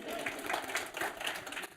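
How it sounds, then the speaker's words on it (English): Brief audience applause at a business talk, a steady wash of clapping across the room that lasts under two seconds. "Round of applause for Tom."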